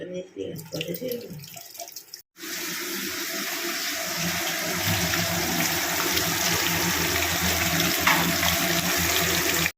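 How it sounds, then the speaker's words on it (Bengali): Prawns are washed under running water at a sink, with a steady close gush of water that starts after a short stretch of muffled handling and brief talk, then runs continuously. "চলো ধুয়ে নি মাছটা।"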